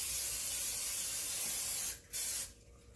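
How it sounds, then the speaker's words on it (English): A steady non-stick aerosol cooking spray hisses continuously onto a cast iron pan, pauses briefly, then sprays again in a short burst before fading; close and fairly loud, no talking. "let's start by using some non-stick cook spray on it"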